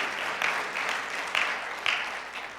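Congregation applauding in a church service, a steady wash of clapping from many hands with a few louder surges, filling the space without voices.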